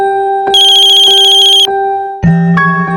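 A phone ringtone plays loudly and unanswered, a bright repeating melodic pattern of pulsing tones that pauses briefly and then resumes with a lower, different set of notes, with no voices present.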